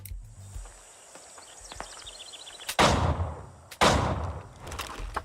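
Two sharp, loud pistol shots from Scottish steel pistols in the video game Helldivers 2, each a sudden broadband crack with a decaying tail, about a second apart after a quiet stretch of low game ambience.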